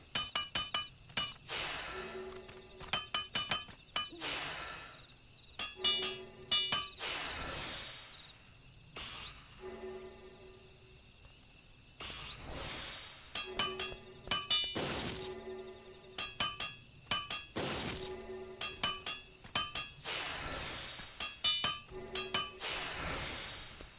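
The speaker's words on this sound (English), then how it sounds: "Let me just hammer. Because I need 1 more cobalt plate then." Hammering a cobalt plate while crafting in Final Fantasy XIV: bright metallic clinks in quick bursts of several strikes, repeating in rounds with short pauses between, clear and close with no talk.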